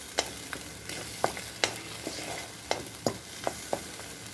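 Ginger fries in a pan for a light bottle gourd curry while a spatula stirs it, giving steady soft sizzling and a series of sharp scraping taps spaced irregularly and close by, with no talking.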